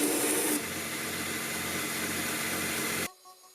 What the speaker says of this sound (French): on peut passer au façonnage du manche, à la ponceuse à bande toujours